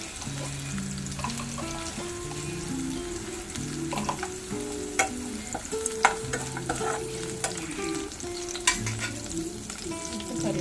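Peanuts, green chilies and cumin frying in a pan with steady sizzling, broken by scraping stirring strokes and the odd clink of a utensil, close up and without talking.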